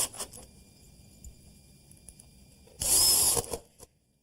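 Power drill driving screws through glued wooden gussets, one short close burst of whirring near the end after a quiet stretch.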